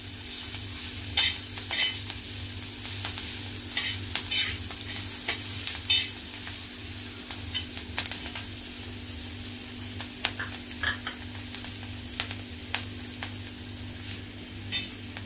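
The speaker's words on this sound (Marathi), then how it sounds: "आता परतलेली आपली फोडणी, आता आपण याच्यामध्ये फ्लावर घालूया।" Chillies and spices sizzle in hot oil in a pan for a cauliflower tawa fry tempering, with a constant frying hiss and repeated short stirring scrapes at an uneven rhythm, close and alone.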